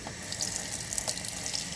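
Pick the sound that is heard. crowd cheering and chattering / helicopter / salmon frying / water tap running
water tap running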